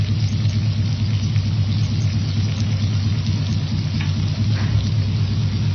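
Mixed vegetables for pav bhaji are stirred continuously in a pan, giving a steady, dense sizzling scrape over a low, constant rumble, with no talk.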